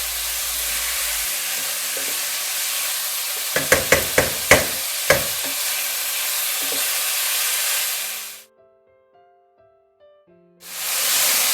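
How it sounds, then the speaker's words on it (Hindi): A minced chicken mixture fries on a high flame with a loud, steady hiss and sizzle, broken by a quick run of sharp spatula knocks against the pan. The sound drops out for a couple of seconds before the sizzle returns. "फ्लेम को हाई रखेंगे और अच्छी तरह से इसकी भुनाई करते रहेंगे जब तक ये गोल्डन ना हो जाए"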